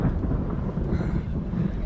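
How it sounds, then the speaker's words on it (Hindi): Thunder rumbles through steady light rain in stormy weather near trees, a continuous low roll filling the whole short stretch with no voices. "बादल गरज रहा है, बारिश हो रही है।"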